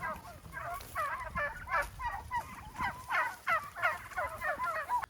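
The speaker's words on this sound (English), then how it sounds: "So our turkeys are huge now." A flock of turkeys gobbling repeatedly in rapid, warbling bursts, fairly close and loud, one call overlapping the next throughout.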